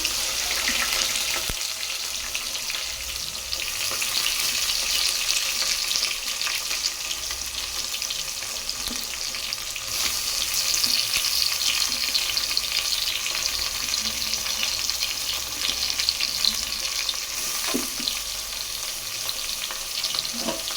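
Onions, curry leaves and garlic frying in a pan, a steady close sizzle with occasional stirring clatter, continuous and loud throughout with no talking.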